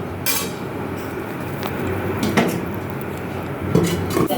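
A lid set onto a cooking pot of salted simmering curry, giving a few close clinks and clatters of metal over a low steady background.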